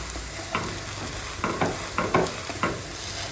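Pav buns toasting in butter in a hot pan for pav bhaji, a steady close sizzle with several soft scraping stirs and pushes breaking through at irregular moments.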